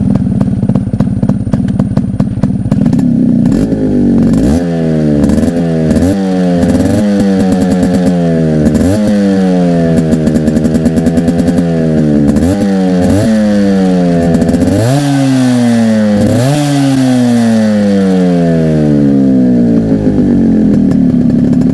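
A restored Yamaha RX two-stroke motorcycle engine idles with a loud, crackling buzz, then revs repeatedly in sharp rising and falling bursts, close and dominant throughout, with no talking.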